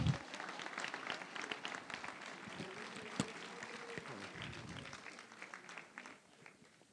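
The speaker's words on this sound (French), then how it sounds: "On peut l'applaudir" Applause rises from a crowd at a New Year's greetings ceremony for residents, a soft, fairly distant wash of clapping that continues steadily and fades toward the end, while a voice speaks faintly over it.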